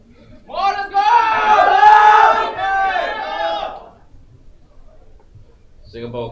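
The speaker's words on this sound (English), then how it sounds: "come on, let's hear you cheer Singapore" Crowd cheering for Singapore at the 2022 Southeast Asian Cup powerlifting event, a loud swelling roar of many voices shouting together for about three seconds, fading to quiet before a brief voice returns.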